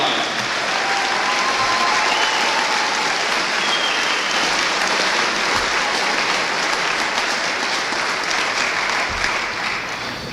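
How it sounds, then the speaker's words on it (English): Sustained applause from a large audience at a 2025 high school graduation ceremony honoring academic award winners, a dense steady clapping that fills the room and tapers slightly at the end. "Please give them a round of applause."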